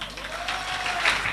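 Audience clapping steadily for a motivational business speaker at a Safe Shop event, a dense, continuous wash of applause with no one talking over it.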